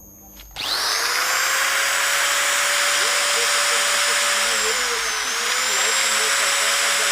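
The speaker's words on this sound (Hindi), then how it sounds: "सोलर सिस्टम से अभी जो हरा काटने की मशीन है वो चल रही है" A solar-powered green fodder cutting machine, a grinder, runs with a loud, steady high motor whine that starts abruptly and holds without a break, shifting slightly in pitch partway through.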